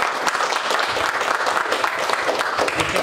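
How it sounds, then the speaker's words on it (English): A room full of people applauds, a busy, steady clatter of hands that holds for a few seconds. "I think a round of applause to her."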